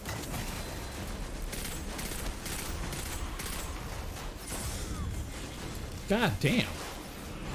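Weapon fire in Destiny 2 crackles in dense bursts beneath someone talking and swearing, with sharper pops and shots scattered across the busy game mix.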